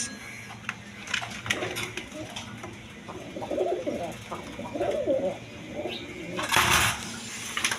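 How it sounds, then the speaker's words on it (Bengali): Several Indian Bombay pigeons at a pigeon sale coo in low, throaty bursts nearby, with bird chirps and a rustling flutter of noise toward the end. "এখানে এক পেয়ার বোম্বাই কবুতর আছে ইন্ডিয়ান বোম্বাই"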